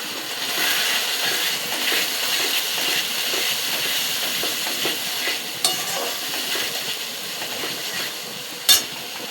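A masala paste with turmeric and salt fries in a pan, giving a continuous close sizzle and hiss with soft stirring scrapes and a sharp clatter near the end.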